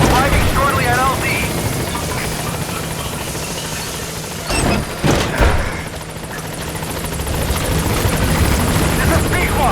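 A B-Quad helicopter in Metal Gear Solid V roars steadily as it comes in to land, loud and continuous with rotor thump, dipping briefly mid-way under a few sharp bursts before swelling again; voices speak over it.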